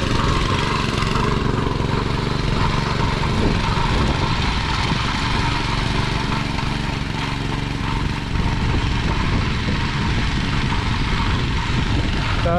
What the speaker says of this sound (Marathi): आबाचं झालो ट्रॅक्टर चालू